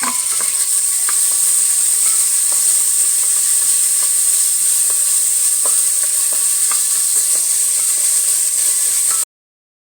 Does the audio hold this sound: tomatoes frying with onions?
yes